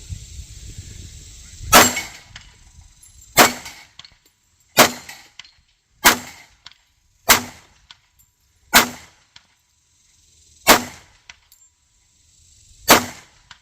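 Pistol shots from a SIG P226 and an HK P30 on a range ring out one at a time, eight sharp loud reports spaced evenly about a second or two apart, each with a short decaying tail.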